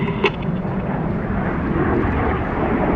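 Red Arrows display jets roar past at an airshow during a barrel roll manoeuvre, a broad, steady engine rush that holds loud throughout the pass.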